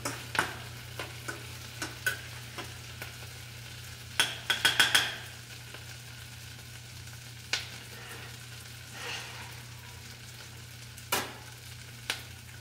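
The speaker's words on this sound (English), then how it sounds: "now that those onions are sauteed" Onions sauté in a pan with a steady, low sizzle underneath, while a utensil scrapes and taps against the pan in scattered stirring strokes, close and fairly quiet.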